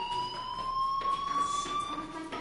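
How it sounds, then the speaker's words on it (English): A fire alarm rings in the video game Life is Strange as a steady, slightly wavering electronic tone that holds on continuously at moderate level over a soft background wash. "do you hear that fire alarm? That means you should be outside."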